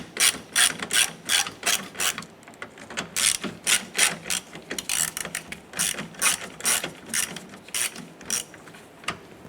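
A ratchet with an 8mm socket backs out the two bolts holding the lock key cylinder in the tailgate of a 2011-2018 Ram pickup, giving close, rapid bursts of clicking with short pauses between strokes and no talk.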